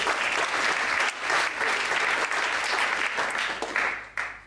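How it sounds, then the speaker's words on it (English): Audience applause at a main-stage comedy performance, a dense, loud wash of many hands clapping that holds steady throughout, with brief dips before it tails off at the end. "Round of applause for Nigel, please."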